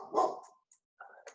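A black Labrador barks indoors, one loud burst of barks followed by a brief pause and then a couple of shorter, quieter yaps.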